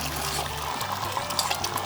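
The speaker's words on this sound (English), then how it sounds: "So take your whisked eggs, and just gonna pour them in." Whisked eggs are poured into a hot stir-fry pan, producing a steady, close sizzle and liquid hiss that runs continuously with no speech.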